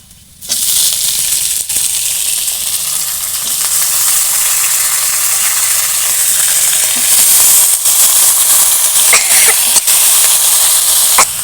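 Washed pumpkin stalks tipped into onions already fried deep red in a pan for a Bengali shrimp chorchori, setting off a sudden loud, dense sizzle that holds steady and close for the rest of the clip.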